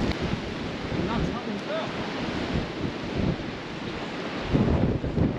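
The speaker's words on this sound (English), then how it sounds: "as you can tell it's very windy" Strong gusty wind roaring across a coastal hilltop above a bay, buffeting the microphone in a continuous broadband rush that surges louder near the end, with no clear talk.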